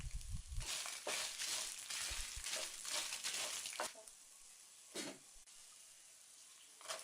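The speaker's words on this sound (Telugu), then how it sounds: "ఇవన్నీ వేగిన తర్వాత ఎండుమిరపకాయలు వేసుకుని 2-3 నిమిషాలు బాగా ఫ్రై అయిన తర్వాత" Dried red chillies frying in hot oil for a ginger chutney, with cumin already in the pan, giving a steady close sizzle and crackle that eases off midway, broken by a few brief stirring scrapes.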